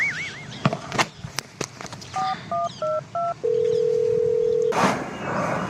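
Telephone keypad tones beep in a short series of paired bursts, followed by a steady electronic tone holding for over a second, with clicks and background noise around it.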